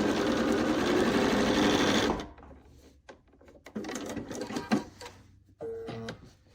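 A sewing machine runs in a steady, loud burst for about two seconds while piecing quilt strips, then stops, leaving softer clicks and handling noises.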